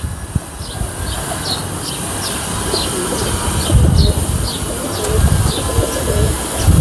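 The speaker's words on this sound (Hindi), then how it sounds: "उनके स्लेटी कबूतर" Slate-grey Sialkoti pigeons coo nearby in a repeated rhythm, with light chirps and a low rumbling background that swells now and then.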